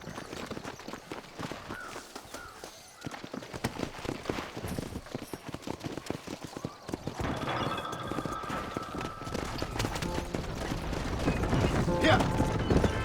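Galloping hooves and rattling, creaking wagon noise in the video game Red Dead Redemption, over a busy mix of music and effects, growing louder toward the end.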